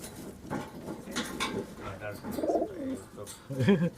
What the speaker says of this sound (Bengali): কবুতর দুটো খুব ভালো কবুতর